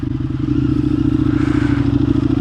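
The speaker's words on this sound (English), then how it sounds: "definitely missed this grunt on this bike" An Indian FTR 1200 motorcycle engine idles with a deep, loud, pulsing grunt, its even rapid firing beat rumbling up close for the whole stretch with no voices.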